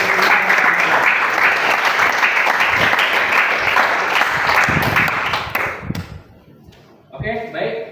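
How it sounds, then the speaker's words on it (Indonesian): A classroom group applauds in a dense burst of many hands clapping that holds for several seconds, then tapers off, and a voice begins talking as it ends. "Tepuk tangan dulu."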